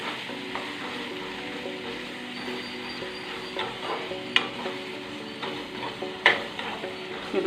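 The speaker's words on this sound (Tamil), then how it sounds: "நல்லா வதக்கிக்கலாம்" Tomatoes sautéing in a pan for a prawn and brinjal kurma, a steady sizzle under repeated stirring strokes, with two sharp metallic clinks of the spoon against the pan.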